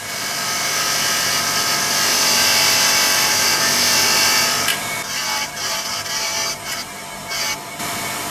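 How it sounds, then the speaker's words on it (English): Bench wire wheel scrubbing motorcycle brake pads from a DR650, a loud continuous abrasive whirring that holds steady and then breaks into uneven scraping bursts as the pads are pressed and moved against the wheel. "Just on the wire wheel."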